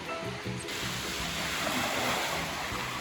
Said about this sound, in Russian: Вы только послушайте, какой прекрасный шум моря.